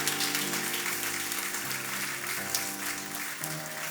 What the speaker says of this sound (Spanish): Dar un aplauso a Jesús